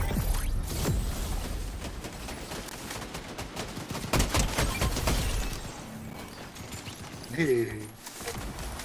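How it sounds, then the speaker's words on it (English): Assault rifle fire in a video game, loud dense bursts of shots running through most of the clip amid busy game noise, with a brief tonal effect near the end. "Oh, that weapon is so satisfying. The Sky's assault rifle just sounds serious."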